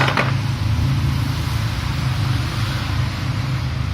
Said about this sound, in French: Je suis désolée pour le bruit de la rue